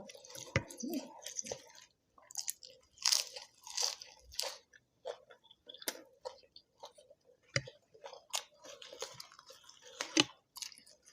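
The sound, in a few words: crunching crispy pork skin while eating mala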